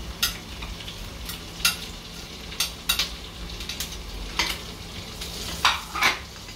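Bacon, linguiça sausage and garlic fry in a pan with pepper added, giving a steady close sizzle broken by scattered scraping stirs and clinks, with no talking.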